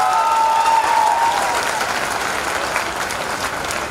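An audience at a Hindi comedy poetry show claps hard, a dense burst of applause that fades a little over a few seconds, with a brief high tone at the start.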